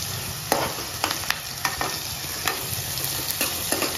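Onions roast and sizzle steadily in a hot pan for mango chicken, with a spoon stirring and scraping at irregular intervals over the continuous close frying hiss.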